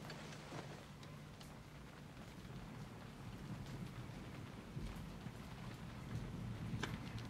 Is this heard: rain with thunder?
yes